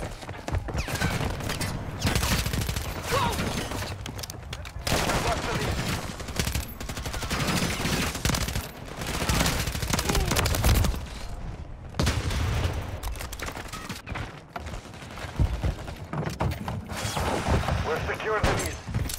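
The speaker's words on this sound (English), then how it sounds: "Shoot the bad guys!" Gunfire fills a multiplayer match in Call of Duty Modern Warfare 3: dense, rapid, close bursts of automatic rifle fire with occasional heavier booms, nearly continuous throughout, with voices calling out between shots.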